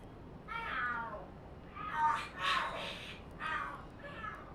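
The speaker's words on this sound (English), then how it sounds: "Are there cats fighting?" Cats fighting and screaming in the video game Lost Judgment, several drawn-out wavering yowls and caterwauls rising and falling in overlapping bursts, fairly faint, with no talk over them.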